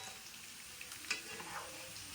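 Beef pieces frying in oil in a pan at home for a beef dragon dish give a faint, steady sizzle with a few small crackles and pops, heard alone without talk.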